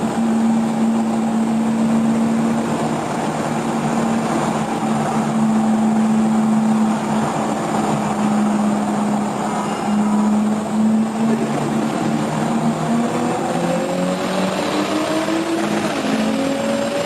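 A Toyota Supra fitted with a 67mm turbo and 850cc injectors accelerates on low boost, its engine a continuous loud drone with the pitch climbing steadily toward the end, and no voices.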